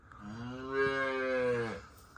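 A Simmental hybrid calf on a farm gives one long, drawn-out moo, close and loud, rising then holding steady before breaking off, with no talk over it.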